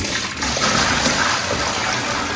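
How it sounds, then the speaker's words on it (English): Water poured into a plastic tub for mixing plaster, a steady close splashing and trickling stream that runs unbroken for the whole moment with no talk over it. "Now I've got a little bit of water here, just going to put sort of like so much in."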